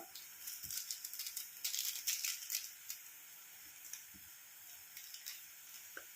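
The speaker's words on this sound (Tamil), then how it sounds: "இப்போ வந்து நம்ம தண்ணி கொதிக்க ஆரம்பிச்சிருச்சு" A soft continuous hiss and bubbling of water boiling in a pot, with faint rattling bursts that swell midway then settle.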